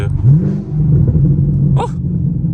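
Chevrolet Camaro SS engine in a close, deep rumbling burble as it downshifts, holding a low steady drone with a short rise in revs.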